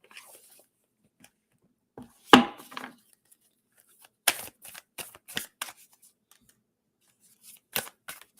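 Moonology manifestation oracle cards being shuffled by hand, in intermittent short papery bursts of riffling and tapping separated by quiet gaps, close and fairly soft with no talking.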